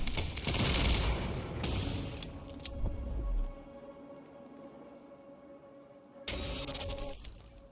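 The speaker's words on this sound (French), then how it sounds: "Pourquoi est-ce que Monarque nous tire dessus?" Monarch soldiers open fire in the video game Quantum Break, a loud, dense burst of gunfire up close that fades into a quieter mechanical hum before another harsh blast erupts near the end.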